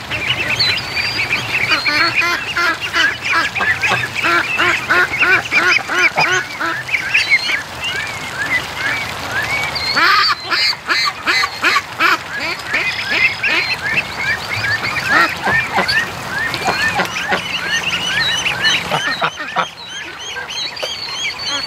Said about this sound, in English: the geese are taking them down to the water